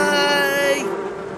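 A brief buzzing drone with a steady hum that shifts and fades, like bees swarming nearby.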